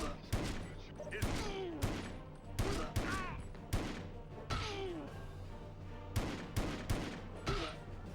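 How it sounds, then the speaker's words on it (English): Gunshots fired into a ceiling in 007: Everything or Nothing, a PS2 game from 2004: a string of sharp, loud reports spaced irregularly, with short whooshing game effects between shots. "Why did I fucking shoot into the ceiling?"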